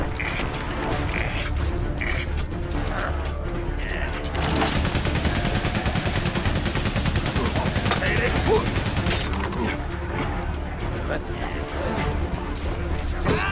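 Machine gun fire comes from a machine gun nest in the Valiant Hearts video game, a loud, continuous rattle of shots mixed with mechanical clanking and crashes. A voice talks over it at times.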